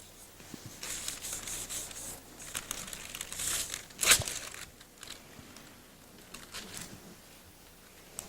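Wax strips being rubbed and ripped off a woman's legs during hair removal, with soft crinkling and rubbing and one sharp, loud tearing rip near the middle, close up and without talk.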